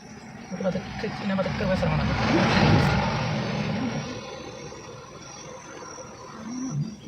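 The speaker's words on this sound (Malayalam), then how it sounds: "ലോറി വരുന്നുണ്ട് അതിനോട് സേഫ് ആയിരിക്കും" A lorry on a road in Wayanad swells into a broad, rumbling roar that peaks midway and fades off, while people nearby talk over it.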